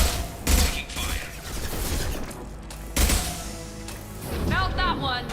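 Sci-fi shooter gunfire in Mass Effect, bursts of rapid shots and booms in two main volleys with a continuous combat rumble between, while a player talks over it.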